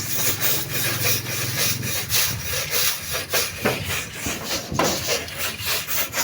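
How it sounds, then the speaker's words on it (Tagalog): Rust being sanded off corrugated galvanized iron roof sheets up on a rooftop: continuous rough, scratchy rubbing in uneven strokes, close and fairly loud, with no voices. "kinukuskus po yung mga kalawang ng yero. Ayan, nililiha po para kapit na kapit."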